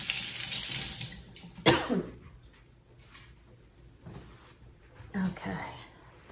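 Tap water runs into a kitchen sink as hands are washed after handling hot peppers, a steady hiss in the first seconds and brief splashes later, with some movement and a cough-like sound in between.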